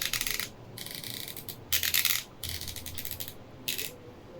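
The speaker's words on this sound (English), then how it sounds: "this will move the platen 1 point for each click of the ratchet" Crisp ratchet clicks from turning the platen knob of an IBM Selectric Composer typewriter, a handful of separate bright metallic bursts at an uneven pace, close, with no talking.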